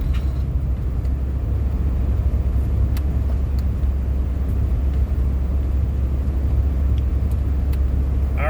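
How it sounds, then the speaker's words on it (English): Road traffic in a traffic jam in the Everglades, a steady low rumble of idling and slow-moving cars that continues throughout at moderate loudness, with no talking. "It's traffic jam."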